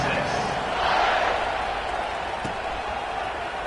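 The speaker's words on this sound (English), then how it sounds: "They're set to kick it off, and this crowd now ready to get behind them." Stadium crowd at a South Carolina versus Texas college football season opener roaring as the kickoff approaches, a broad, sustained wash of cheering that swells briefly, with a commentator speaking over it.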